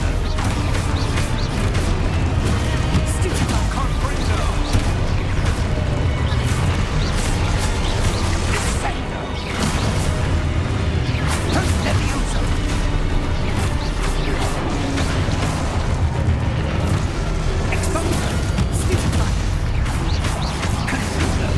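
Loud, dense spell-combat booms and crashes from a Hogwarts Legacy battle, an Expulso explosion among continuous rumbling impacts and clattering effects, with no pause through the fight.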